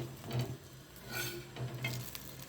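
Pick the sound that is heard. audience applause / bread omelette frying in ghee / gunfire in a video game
bread omelette frying in ghee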